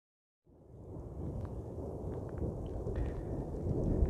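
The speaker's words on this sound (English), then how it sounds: "You might be able to hear the thunder in the background" After a brief silence, a low rumbling roar of distant thunder swells in and grows louder over a UK field, with faint crackles over it.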